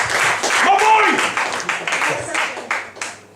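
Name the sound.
audience applause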